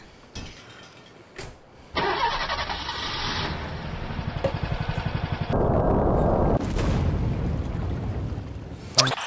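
A rocket launch in the Henry Stickmin video game, heard as a loud, sustained rushing roar that kicks in abruptly after a couple of quiet knocks, shifting tone midway and ending with a sharp bang.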